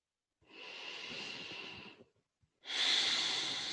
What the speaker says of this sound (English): Taking 1 to 2 breaths here.